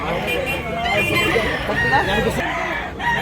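A rooster crows amid the bustle of a chicken market in Tabunok, Cebu, its call rising over chatter and background crowd noise close by.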